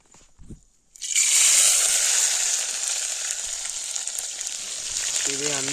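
A ginger, garlic and onion mixture drops into hot oil for a village-style green chilli fish curry. After a short quiet start, a loud sizzle bursts up, then settles into steady frying close by.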